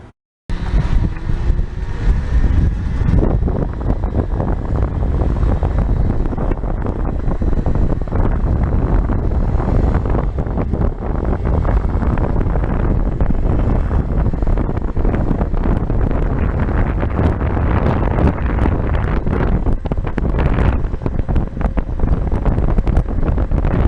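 An Atom Kart electric go-kart running in second gear on a 16S 60V lithium battery pack, with loud continuous wind buffeting the microphone and a steady motor and road rumble throughout, no talking.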